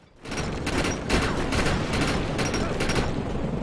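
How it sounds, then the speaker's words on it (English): Gunfire in the video game Defiance aimed at a fuel tank, dense continuous rapid shots forming a loud sustained rattle of bursts lasting over three seconds, with talk underneath. "Shoot that fuel tank."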